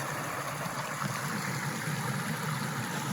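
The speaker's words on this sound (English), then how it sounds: "You just see the waterfalls." A backyard pond waterfall in winter splashes as a steady, continuous rushing of falling water, even and moderately loud throughout with no talk.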